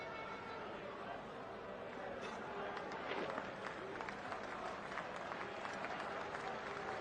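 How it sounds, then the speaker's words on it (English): Polite applause rises from a cricket crowd at a T20 match between Pakistan and England, a steady wash of distant clapping and chatter held at a constant level for several seconds. "Polite applause as England's 100 comes up after 12 overs and 1 ball."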